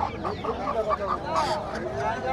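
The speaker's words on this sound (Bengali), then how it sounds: "এই যে চাচা মাত্রই মোরগ আনছে অনেকগুলা খাঁচাই করে।" Caged roosters at a rural riverside char-area market in Bangladesh give short, repeated clucking and crowing bursts close by over a busy, murmuring market background.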